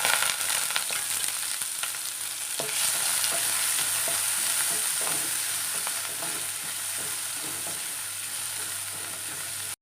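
Coconut pieces with crushed onion and garlic fry in a pan for a Kerala upperi, a loud, continuous close sizzle with faint scraping of a spatula running through it.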